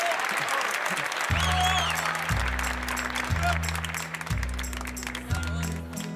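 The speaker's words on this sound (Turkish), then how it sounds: "Alkış." An audience at a magic show breaks into sustained applause, a steady crowd clapping that continues while a loud, rhythmic stepped musical tone plays underneath.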